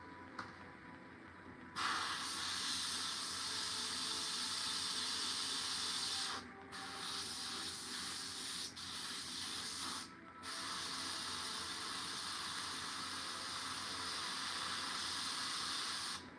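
An airbrush sprays paint onto a Warhammer miniature, giving a steady, close hiss that starts after a quiet moment and runs on with two brief pauses, with no talking.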